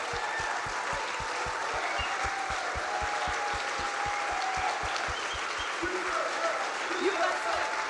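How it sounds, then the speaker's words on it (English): Steady applause from an audience at a large live event fills the clip, dense clapping with rhythmic low thumps and crowd noise underneath, loud and sustained throughout. "Let's give these people a round of applause."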